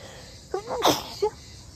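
One sharp, close sneeze at a family home on the first day of the holiday, with short vocal sounds just before and after it.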